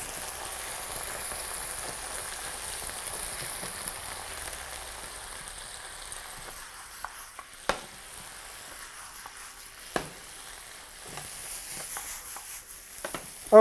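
A soft, continuous sizzle of water boiling off in a pan, with a few sharp pops and clicks scattered through it.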